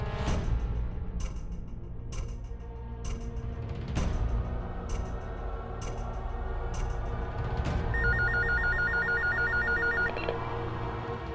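A telephone rings in a drama scene, with a series of evenly spaced bright rings followed by a longer electronic trilling tone. The rings are loud over a low background hum.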